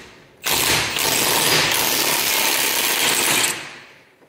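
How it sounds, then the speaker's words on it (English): A Milwaukee power impact tool rattles hard on the pinion nut of a Jeep Wrangler JK Rubicon Dana 44 axle, a loud, close burst of hammering lasting about three seconds before stopping abruptly. "good old Milwaukee tools."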